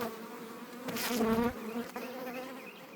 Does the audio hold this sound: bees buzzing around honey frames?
yes